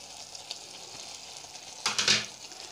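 Cut potatoes in a pan sizzle quietly with a soft, steady crackle until a brief burst of stirring scrapes swells up near the end, no voices.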